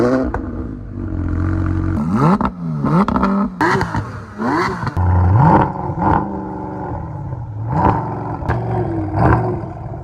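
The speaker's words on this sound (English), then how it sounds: "he hops in and revs up some cars" A Koenigsegg Regera's engine is revved hard several times, the pitch sweeping up and dropping back in quick surges, loud and close with a mechanical clatter between blips, and no talking.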